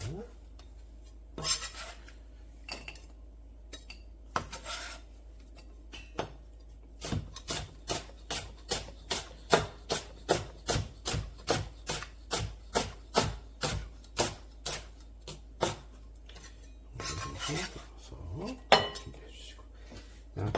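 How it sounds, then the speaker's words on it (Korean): A knife slicing green onion, onion and carrot on a cutting board, with scattered cuts at first and then a long run of quick, evenly spaced chops close by, at moderate volume. "양파랑 당근은 채 썰어주실 거예요. 음. 대파는 송송송송 썰어주시고요"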